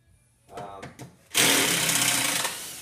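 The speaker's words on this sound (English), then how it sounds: "we're going to keep moving along and taking out the rest of the screws" A power driver whirs loudly as it backs screws out of a Tomahawk bowling target, preceded by a couple of brief taps and handling knocks, then a sustained close-up high-pitched spin.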